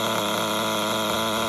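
An XTM Mammoth nitro monster truck engine idles steadily, a dense, continuous buzzing drone with a bright high-pitched whine that holds even throughout, with no talk over it.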